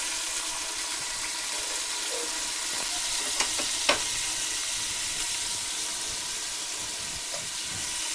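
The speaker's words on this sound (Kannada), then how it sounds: "ಟೊಮೆಟೊ ಸೇರಿಸ್ಕೊಂಡು ಟೊಮೆಟೊ ಕೂಡ ಚೆನ್ನಾಗಿ ಫ್ರೈ ಆಗಬೇಕು." Tomato frying in a pan for chicken sambar gives a steady, close sizzle and hiss, with a few faint clicks of stirring and no speech.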